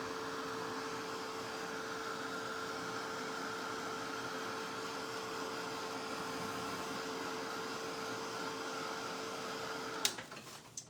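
A hair dryer blows to dry paint on a small painted Christmas tree, a steady whooshing hum running unbroken for about ten seconds before switching off with a click.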